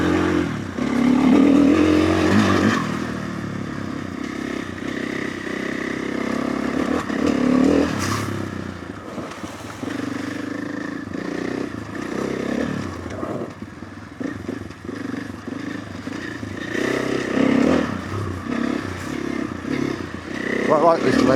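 A motorcycle rides steadily with a continuous close engine drone and wind rush, captured on a DJI Action 5 Pro camera with low background noise reduction, while the rider talks over it throughout.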